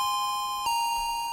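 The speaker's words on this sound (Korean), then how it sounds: "마지막 수업 시작종이 울렸다" A school bell chime signals the start of the last class, a sustained steady electronic tone held evenly throughout, with a slight brightening partway through and no voices.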